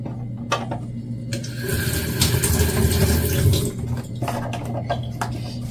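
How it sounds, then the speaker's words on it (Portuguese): Water pours into a milk cream mixture, a close, steady splashing fill that swells for a couple of seconds, then eases off among small clatters. "E completar com água."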